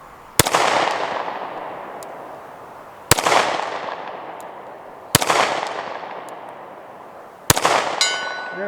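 SCCY CPX2 pistol fired at targets 100 yards away, four sharp separate shots spaced a few seconds apart, each ringing out with a decaying echo.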